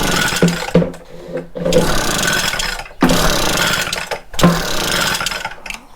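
An Echo PB-200 leaf blower being pull-started with the choke on: three loud, rasping bursts of cord pulls and brief engine catches, separated by short pauses.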